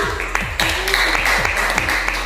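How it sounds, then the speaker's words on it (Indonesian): Applause from a classroom group for the first team after their presentation, steady and close, with a constant low hum underneath. "tepuk tangan untuk kelompok pertama"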